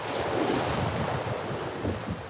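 Ocean waves wash up on a beach with a broad, steady surf roar mixed with wind buffeting the microphone, close and continuous with no voices.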